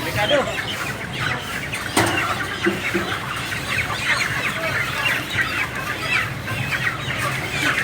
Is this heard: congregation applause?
no